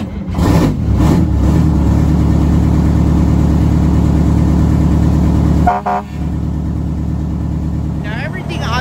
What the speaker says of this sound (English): Let's start her up and hear that 8V71 purr.